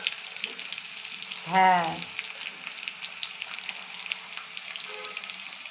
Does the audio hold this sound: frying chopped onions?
yes